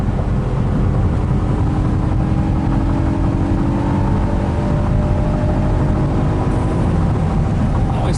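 A 2019 Honda Passport EXL SUV accelerates along a rough road, its engine and road roar a steady, loud, continuous drone from inside the cabin with no break.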